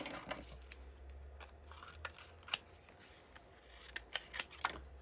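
Several sharp snips of scissors cutting paper, scattered and fairly quiet, with soft handling noises and a low background hum between cuts.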